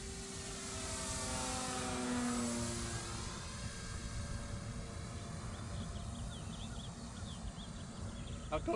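A Cessna 182 model airplane at half throttle drones overhead with a steady buzzing tone that sweeps in pitch as it passes, moderately distant, with a voice speaking faintly underneath.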